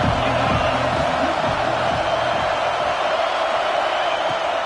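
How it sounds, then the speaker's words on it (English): Home crowd at a football game roaring in a steady, dense wash of cheering that holds loud and unbroken throughout. "how nice is it to have the home crowd going absolutely bananas?"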